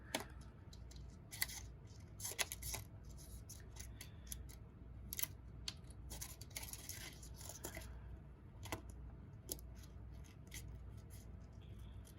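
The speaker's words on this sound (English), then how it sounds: "it's a fairly quick image to fussy cut." Scissors snip around a printed paper image for a handmade orchid birthday card in quick, irregular cuts, close and quiet, with soft paper rustle between snips and no talking.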